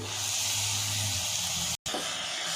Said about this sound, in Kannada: ಈಗ 2 ಟೊಮೊಟೊನ ಪೇಸ್ಟ್ ಮಾಡಿ ಹಾಕ್ತಾಯಿದ್ದೀನಿ